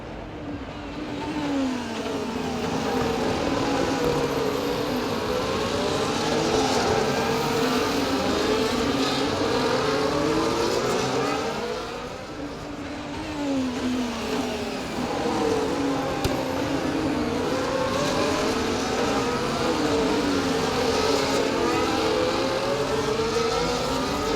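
Formula 1 cars racing at Spa-Francorchamps in EA Sports F1 24, a continuous high engine whine rising and falling through gear changes as cars run near one another, loud and steady for the whole stretch.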